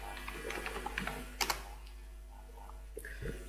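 Typing on a computer keyboard into a terminal comes through as faint, close key clicks in short bursts, with a brief cluster of louder taps near the middle, over a low steady hum.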